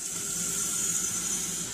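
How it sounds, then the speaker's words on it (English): Water runs steadily from a kitchen faucet fitted with an EOS DNA water ionizer, a short, even hiss of flow with no speech. "turn on my faucet"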